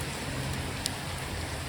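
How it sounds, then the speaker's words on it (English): Heavy rain pours down steadily outdoors near a wood shed on a concrete pad, a dense, even hiss close by with a low rumble beneath and one brief louder drop partway through. "It's dumping rain"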